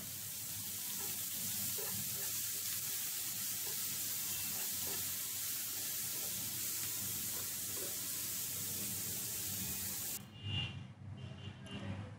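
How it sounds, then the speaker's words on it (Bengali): Capsicum and tomato for egg noodles are stirred and lightly fried in a pan, a continuous hissing sizzle with soft scraping strokes running steadily for a long stretch, then cutting out to a few quieter clatters at the end. "একটু ভালো করে নেড়ে চেড়ে নিব। হালকা ভাজতে হবে"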